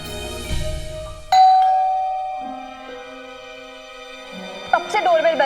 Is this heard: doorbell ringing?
yes